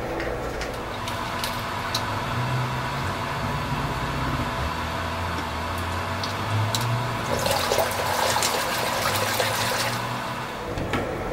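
Hydroponic nutrient solution being mixed in a container of water, a steady, fairly quiet swirling and sloshing that continues throughout, with a few brief clicks and splashes near the end.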